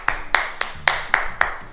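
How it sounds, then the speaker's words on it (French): A group claps in unison after a martial movement exercise, six sharp, evenly spaced claps in a quick steady rhythm, fairly close and moderately loud, with no talking. "Et on s'applaudit."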